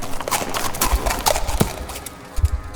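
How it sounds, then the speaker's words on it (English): Horse hooves clip-clop on the ground in an uneven run of sharp knocks that grow steadily closer, with a faint whinny-like tone behind them. "the sound of the horse seemed to get even closer and closer"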